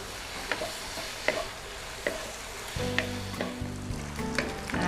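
Pork belly stir-frying in a pan to render out its fat, with steady sizzling, spatula taps and a louder frying surge partway through.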